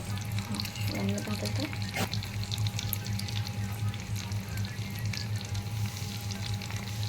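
Hilsa fish pieces coated in turmeric and salt fry in hot oil in a kadai, giving a steady, close crackling sizzle with a faint hum and a brief clatter of utensils early on.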